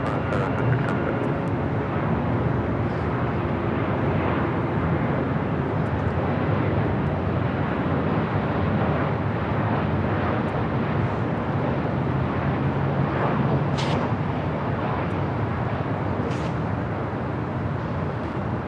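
A Boeing 747 known as the Queen taxiing at LAX, giving off a steady, broad jet-engine rumble and roar that stays fairly loud and constant throughout, with no voices.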